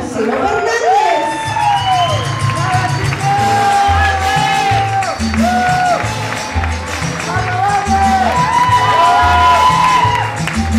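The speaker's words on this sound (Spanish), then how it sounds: "Fuerte el aplauso para Vanessa Serrano y Marcelo Fernández." An audience cheers and whoops for a dancing couple at a Latin dance competition, with loud music playing under an announcer's voice. Crowd noise runs steadily underneath, and no clear clapping stands out.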